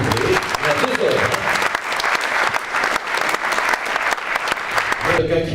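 Loud, dense applause fills an award ceremony for France's best apprentices as a gold medal is presented, sustained clapping from a large crowd that drops off abruptly near the end as a voice returns.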